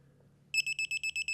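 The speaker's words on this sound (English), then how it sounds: "this torque wrench is going to beep, beep, beep until we approach the correct torque value" A digital torque wrench tightening a fitting during installation of a Cooper&Hunter 18-24K Btu/h air handler gives a quick run of about seven evenly spaced, high electronic beeps, clear and close against a quiet background.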